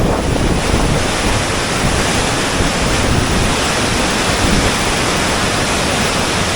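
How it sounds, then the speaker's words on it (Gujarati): The flooded Madhvanti river in the Gir region rushing after heavy rain near Mendarda, a constant loud broadband roar of torrential water mixed with wind buffeting, unbroken and without talk. "લસમસતો એ પ્રવાહ વિકરાળ મધવંતી નદીનું આ સ્વરૂપ તમે જોઈ રહ્યા"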